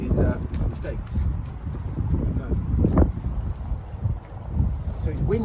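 Steady wind buffets the microphone with low rumbling gusts, continuous throughout, while a voice talks faintly underneath.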